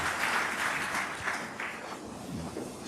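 A church congregation at a Sunday service claps together after a Bible reading, a dense, steady wash of applause throughout that thins slightly toward the end.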